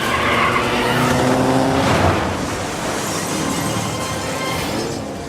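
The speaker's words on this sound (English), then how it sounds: "The bike begins thrashing, and Paul suffers a punishing collapse." A motorbike thrashes and collapses in a hard crash, loud skidding and scraping noise with a tire-squeal character sustained throughout, peaking around the middle before a rough grinding tail.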